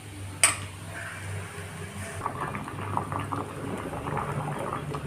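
Green banana peel chutney with turmeric simmers in a pot on a gas stove, giving a steady low bubbling and hiss after a single sharp clink at the start.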